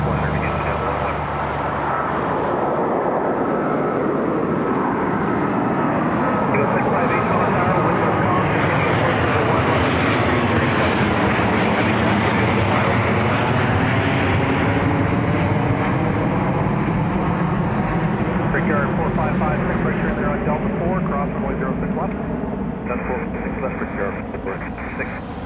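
Airliner on approach to snowy Toronto Pearson airport in cold winter weather, a steady continuous engine roar holding loud for the whole stretch, with a rising and falling whine sweeping through it as the aircraft passes.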